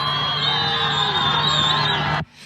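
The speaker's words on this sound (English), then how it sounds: "You can hear people cheering" Migrants at the US border near El Paso cheer and whoop as a group, a dense, steady roar of many voices with whistles and shouts that holds for about two seconds before cutting off abruptly.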